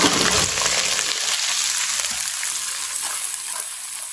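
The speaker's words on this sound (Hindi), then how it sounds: "एक मिनट के लिए मैंने पका लिया है लहसुन और अदरक को" Garlic and ginger paste fry in a pan for biryani, a loud, steady close sizzle that carries on without a break and fades slightly over the few seconds.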